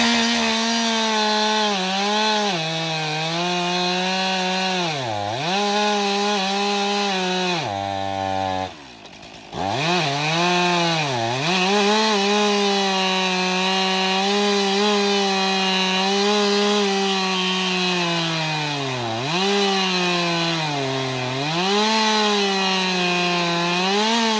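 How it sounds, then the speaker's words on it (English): Stihl MS362C chainsaw with a 28-inch bar ripping lengthwise into hardwood, its loud, close, buzzing whine held steady at high revs for the whole stretch, dropping briefly in pitch several times as the bar bogs in the wood, with one short pause before climbing back. "Let's do a lengthwise cut and bury the blade all the way in it."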